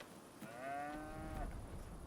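A cow in Farming Simulator 25 lets out a single drawn-out moo, clear and fairly close, over a low rumbling farm background with no talk.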